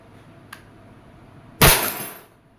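A single pellet shot from an Umarex Glock 17 Gen 5 airgun smashes a glass bottle. A faint click comes first, then a loud, close burst of shattering glass that fades over about a second, with no voices.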